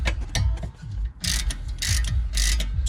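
A wrench works a 12 mm brake caliper bolt loose on a 2006–2015 Honda Civic Si, making repeated ratcheting clicks and metallic grinding bursts up close, with no talking.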